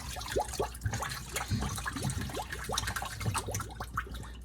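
Rinse water from cleaned sausage casings drains away in irregular splashes and trickles, with brief gurgles and small knocks close by, steady and moderately loud with no voices.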